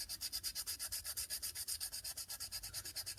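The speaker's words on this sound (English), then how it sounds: "you just sand it till you get all the finish off" Sandpaper is rubbed briskly back and forth on a vintage Norse King Mora knife to strip its finish, giving close, rhythmic scratchy strokes about eight per second, steady and alone.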